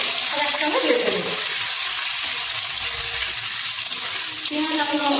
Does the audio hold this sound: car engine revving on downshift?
no